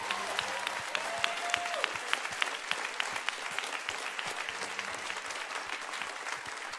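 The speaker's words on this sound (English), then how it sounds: "Your clapping is a little bit too small." A church congregation claps during a Sunday service, a steady patter of many hands at moderate distance with no talk over it.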